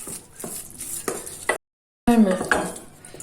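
Eggs being stirred into profiterole choux dough in a pot, giving soft scraping and tapping of a utensil against the pan in short strokes, a brief silent gap, then more close stirring.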